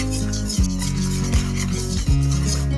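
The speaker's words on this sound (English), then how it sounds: "We're gonna mix that together." Flour, sugar, baking powder, baking soda and salt being mixed together for buttermilk pancake batter, a continuous gritty rubbing and scraping in a bowl, close and steady, with a few brief louder strokes.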